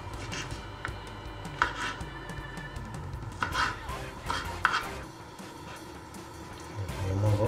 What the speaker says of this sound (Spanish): Vamos a picar unas fresas para decorar